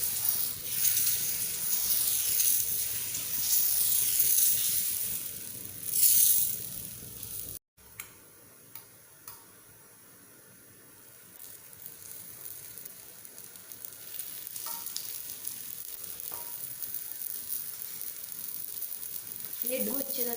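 Food frying in a covered pan, a loud steady sizzle that cuts off abruptly when the lid goes on, leaving a quieter muffled hiss with occasional clicks and a faint voice near the end.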